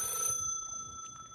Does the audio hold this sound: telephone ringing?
yes